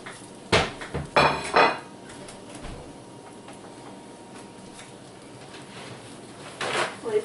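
A plate is handled in a home kitchen, with a few short clinks and knocks of dishware near the start and another brief clatter at the end, separated by quiet room tone.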